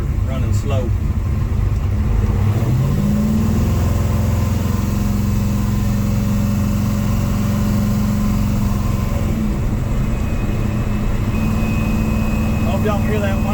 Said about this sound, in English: I'm assuming that's gear whine.